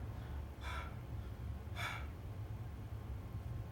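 A person imitates asthmatic wheezing, making two short, raspy gasping breaths for air about a second apart over a steady low hum.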